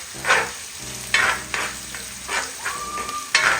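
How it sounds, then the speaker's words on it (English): Fried rice ingredients, including onion and mixed vegetables, are sautéed and stirred in a pan, with a loud sizzle and several distinct scraping stirs at close range, plus one brief high tone near the end. "just gonna saute here, saute a little, and then I just mix everything in"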